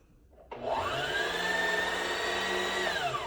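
Sewing machine running steadily to wind a bobbin, a smooth whirring motor that starts abruptly, holds an even pitch for a few seconds and then slows slightly, close and alone.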